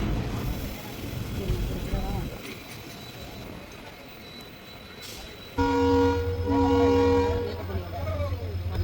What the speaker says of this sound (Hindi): अब हमारा अराइवल हो रहा है राजगंभीरम नाम के छोटे से रेलवे स्टेशन पर।